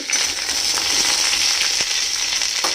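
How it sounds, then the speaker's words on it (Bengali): Pumpkin pieces and drumsticks fry in hot oil in a pan, a steady, loud, close sizzle with faint stirring scrapes underneath. "এই কুমড়ো আর সজনে ডাঁটাগুলো দিয়ে দেবো। একটু নাড়াচাড়া করে নেব।"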